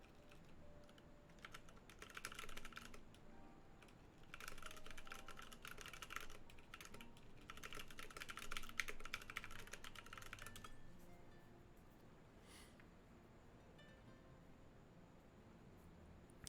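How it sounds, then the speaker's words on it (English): Rapid, fierce typing on a computer keyboard during a Final Fantasy XIV gaming session, coming in dense clattering bursts separated by short pauses before trailing off, close and fairly quiet over a steady background hiss. "Fierce typing."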